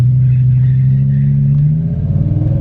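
A BMW M5 V10 in limp mode is held at full throttle, giving a loud, steady engine drone with a low fundamental that climbs slightly toward the end, close and sustained with no talk.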